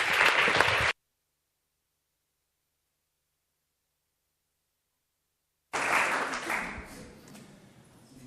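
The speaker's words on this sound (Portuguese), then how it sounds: "o vosso aplauso para o pastor Jonatas Figueiredo" An evangelical church congregation applauds to welcome a pastor, in two bursts: a short spell of clapping, a stretch of total silence, then a longer round of applause that gradually thins out.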